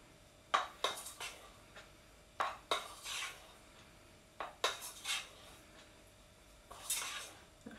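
Spoon scraping and clinking against a bowl while cheese is stirred into a warm bread-topping mixture, coming in short bursts of clatter separated by pauses, close and fairly quiet.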